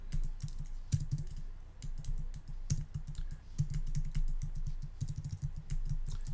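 Programming code is typed on a computer keyboard with rapid, close key clicks in uneven bursts and short pauses, continuing throughout.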